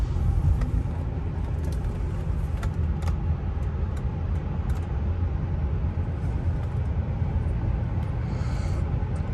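A new Rolls-Royce drives through a very low tunnel, giving a steady, loud low road rumble with a few faint ticks and clicks throughout, no talking.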